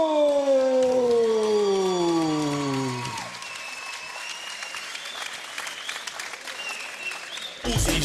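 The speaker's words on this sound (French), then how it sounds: "Mesdames, mesdemoiselles, messieurs, sous vos applaudissements," Crowd applause in a boxing arena as a fighter is announced, rising under a drawn-out amplified announcer's voice that falls in pitch, then a steady roar of clapping and cheering.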